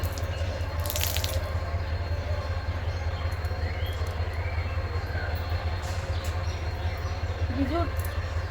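A steady train rumble and rattle fills the background continuously, with occasional faint squeaks and clinks over it.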